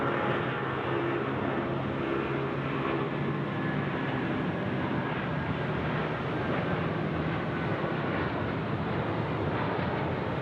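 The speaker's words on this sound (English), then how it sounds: "Here we go, Hawaiian now, 330." A Hawaiian Airlines Airbus A330 airliner landing at Sydney Airport at night, a steady, broad engine roar holding loud and even throughout, with no talk over it.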